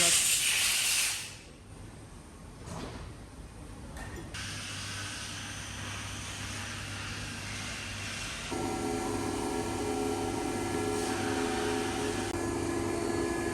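A cylinder head grinding machine runs in a workshop, a steady broadband hiss with a constant low hum; the tone shifts partway through as the grinding load changes, and no one speaks over it.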